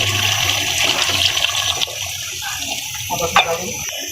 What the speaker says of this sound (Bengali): এখন আমি ঝোল ঝোল পানি করার জন্য কিছুটা পানি দিয়ে দেবো